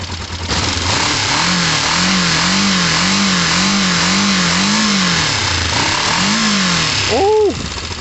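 A motorcycle engine being worked on during MOT-day repairs revs in repeated throttle blips close up, a rising and falling rhythmic drone that ends in a couple of sharp higher revs, with no talking.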